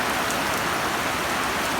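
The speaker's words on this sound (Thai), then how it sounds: "ฝนตกหนักมากเลยค่ะที่บ้าน" Heavy rain pours steadily during a storm at a home in Nakhon Phanom, Thailand, a dense, constant hiss with no voices.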